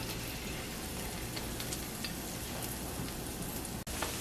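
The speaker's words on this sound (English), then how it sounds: "take the plantain and put it to fry, just like that" Steady, dense crackling sizzle of plantain slices frying in hot oil for tostones, close and continuous, with a brief dip near the end.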